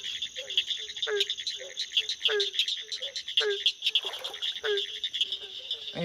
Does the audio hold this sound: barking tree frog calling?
yes